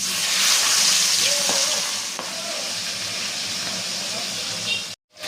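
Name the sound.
pabda fish frying in hot oil in a wok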